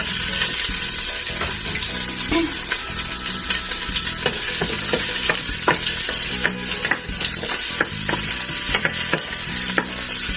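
Oil sizzling and frying steadily in a pan, with stirring scrapes and clatter throughout, heard close and continuous with no talk, while cooking Guyanese metemgee.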